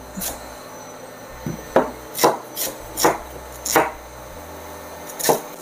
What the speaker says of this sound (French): j'en profite pour couper mon potimarron en morceaux plus petits